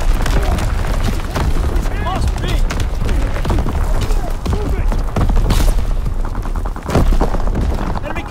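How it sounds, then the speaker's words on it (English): Enemy artillery barrage in Call of Duty WWII, a dense continuous roar of explosions and gunfire with repeated heavy booms throughout, loud and close, with voices shouting over the battle. "Incoming enemy artillery."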